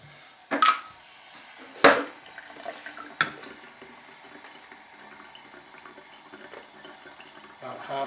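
Water poured into the airlock atop a demijohn of pressed pear juice, a few short splashing gurgles with clinks of glass, fairly close and quiet, then a faint trickle.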